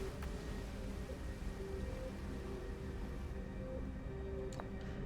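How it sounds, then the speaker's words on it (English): A waterfall in Outer Wilds rushes as a faint, steady hiss of falling water, with quiet tones drifting in the background. "Waterfall."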